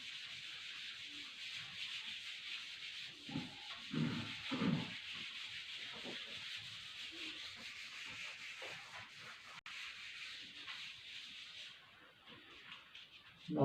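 Dry rubbing strokes of an eraser wiping a lecture board clear, several bursts of scrubbing in the middle then lighter swipes, close and steady over a constant background hiss, with no talking.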